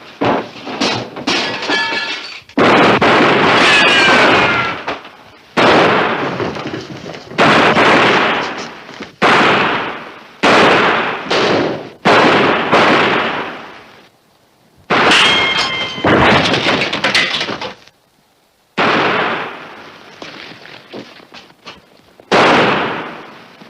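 Loud gunshots ring out in a western movie, a series of sharp, booming blasts spaced a few seconds apart, each echoing and decaying before the next shot.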